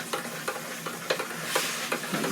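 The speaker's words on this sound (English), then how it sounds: "Y'all hear the sizzle?" Steady crackling sizzle with soft scraping as meat is broken up and stirred in a pot for chili, at a regular pace, close by, no talking.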